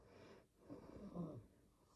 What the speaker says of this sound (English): She's all worn out now, snoring away.